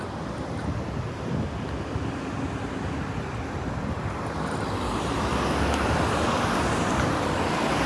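Steady roar of road traffic and heavy wind buffeting the microphone on a ride through a Sarasota, Florida shopping area, with vehicles turning nearby and the rush growing louder toward the end.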